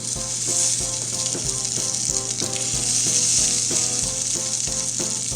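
Baby lobsters in a green marinade sizzle on a hot grill, a steady bright crackle holding evenly throughout, with rhythmic background music playing underneath.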